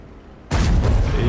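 A World of Tanks cannon fires a tracking shot, one sudden, heavy boom that breaks quiet background and then rumbles and rolls on loudly to the end.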